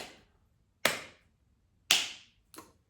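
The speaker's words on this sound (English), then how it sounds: "let me just give you a few more claps" Single person clapping by hand, three sharp separate claps spaced roughly a second apart, close and crisp against near silence, the last one softer.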